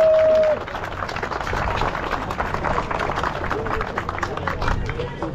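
Crowd applause for the winners on the podium of the Nysa Rally's Open 1 class, a steady, moderately loud patter of clapping with a brief whistle-like tone at the very start.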